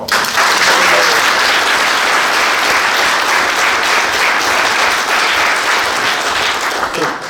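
Sustained audience applause after a presenter's talk at a course event, loud and steady throughout, with dense overlapping clapping from a large crowd.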